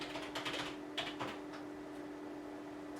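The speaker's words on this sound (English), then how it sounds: "Just bear with me while I type in music shop Victoria Centre" A computer keyboard gets a short burst of quick keystrokes as a search is typed, clustered in the first second and a half, fairly close and soft, then fading to a steady low background hum.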